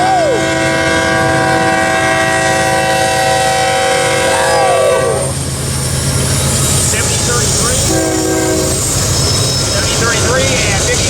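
A freight train led by locomotive 8103 passes close by at Bealville, with a loud, sustained multi-tone horn blast, then heavy rumbling and clattering wheels, and a second shorter horn call.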